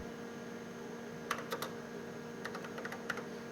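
Clusters of quick keystrokes on a computer keyboard while a program is typed, close and moderately quiet, in irregular bursts over a steady electrical hum.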